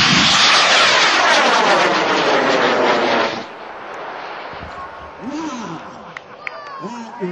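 A high power hobby rocket launches with its main engines firing, a loud roaring rush that dies down after a few seconds, leaving a distant rumble while voices call out nearby.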